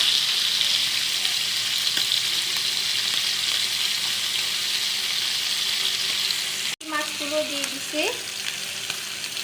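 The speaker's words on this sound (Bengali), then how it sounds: "সেই মাছগুলো একটা রান্না করতেছি ইলিশ মাছ" Hilsa fish pieces fry in hot oil with a continuous, close crackling sizzle, broken by a brief cut before the frying resumes alongside faint tonal background sounds.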